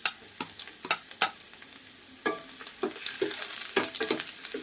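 Chopped garlic and ginger sautéing in hot oil with cumin seeds for palak paneer, a soft sizzle broken by sharp, irregular spatula scrapes and taps against the pan.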